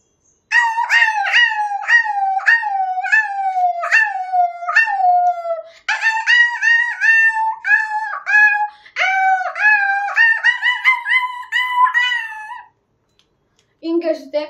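A person's voice imitates a small puppy barking, a rapid series of high, yelping yips in quick bursts with short pauses, close and clear, ending with a lower sound.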